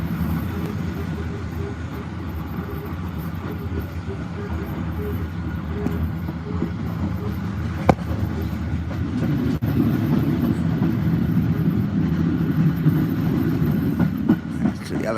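Rumbling Metropolitan Railway heritage carriage running along the tracks on the Bluebell Railway south from East Grinstead, steady low roar with occasional clicks and clanks from the rails, heard from inside.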